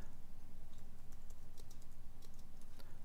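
Fast, steady clicks of typing on a computer keyboard, close and distinct over a constant low background hum.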